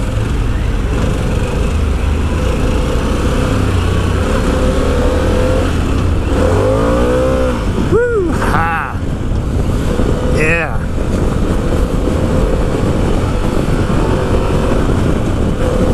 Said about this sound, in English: The engine has this nice vibrato to it.